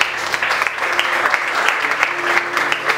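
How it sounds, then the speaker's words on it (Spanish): A church congregation applauds during a sermon, a loud, sustained crowd clapping that runs for a few seconds over a low, steady background tone. "aplauso a Cristo"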